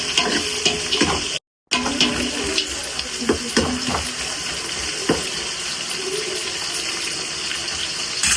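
Onions sautéing in a pan for mushroom biryani give a steady broadband hiss with scattered crackles and a few soft stirring knocks, close and continuous, briefly cut out for a moment.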